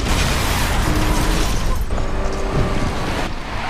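A loud, dense explosion effect from a superhero-themed car advert, a sustained broadband roar with booming low end lasting the whole stretch, cutting off abruptly near the end.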